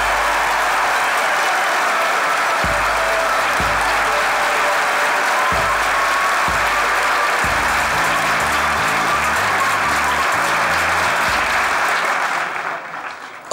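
A TV studio audience on the comedy show Çok Güzel Hareketler 2 applauds guest Ahmet Mümtaz Taylan, a loud, sustained dense clapping with music pulsing underneath that fades out at the end.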